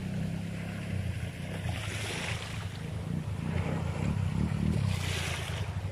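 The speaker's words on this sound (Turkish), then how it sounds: "Dalgalar suya vuruyor." Sea waves wash and splash at Kefken at dusk under a constant low rumble of wind, with the surges swelling louder toward the end.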